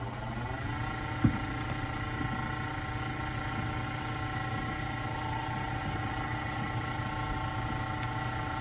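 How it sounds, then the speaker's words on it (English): A wood lathe running at speed to spin a pen blank while its CA glue finish dries, giving a steady, even motor whir with one small tick near the start. "I'm just going to crank it up and let it"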